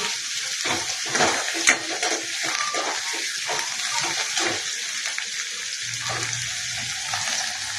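Coriander leaves fry in hot oil with a loud, continuous sizzle, broken by rhythmic stirring strokes, and a low hum comes in near the end.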